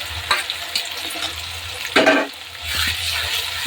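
Shrimp paste ground with ginger, garlic and onion hitting a hot pan, giving a few sharp sizzling bursts and stirring scrapes over a low steady hiss.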